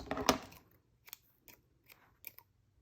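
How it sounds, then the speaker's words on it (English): Scissors cutting string, one loud close snip followed by several lighter, quick snips spaced about half a second apart, with no talking. "Okay, so now you can cut off your string."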